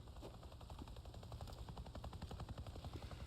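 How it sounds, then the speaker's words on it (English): Helicopter in the Days Gone video game, a faint steady rhythmic rotor thumping with fluttering chop heard throughout, mixed with distant game noise and no talk. "Is that a helicopter?"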